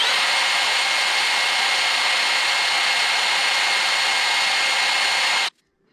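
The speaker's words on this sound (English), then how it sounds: "Looks like a nice little section of sandpaper right there. Let's work on that edge." A Floyd Rose guitar bridge part is sanded along its edge with sandpaper, giving a loud, continuous hissing rasp that stops abruptly near the end.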